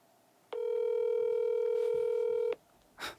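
A phone call rings out as a steady electronic ringback tone, one continuous two-second tone from a phone being used to call someone, loud and close with no talk over it.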